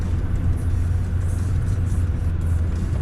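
A Land Rover Discovery 2 with the TD5 diesel engine crawls off-road in first gear over stony ground, giving a steady low rumbling drone with no speech.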